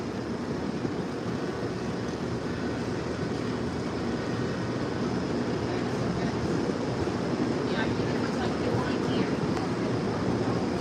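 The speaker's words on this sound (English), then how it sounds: "Moynihan Train Hall" Indoor ambience of Moynihan Train Hall at Penn Station, New York City: a steady, reverberant wash of crowd murmur and distant activity, with faint chirps and tones rising near the end, continuous throughout.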